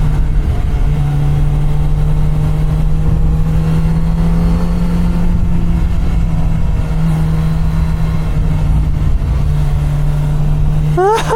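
A Kawasaki Z900 RS motorcycle engine hums steadily and loud in second gear on a tight switchback mountain road in Sierra National Forest, with constant wind rush and a brief shift in pitch near the end.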